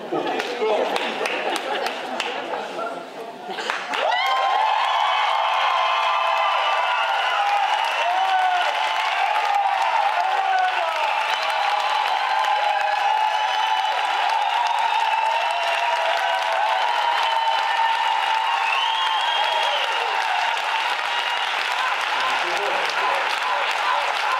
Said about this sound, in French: je veux un tonnerre d'applaudisseurs et des cris, une hystérie collective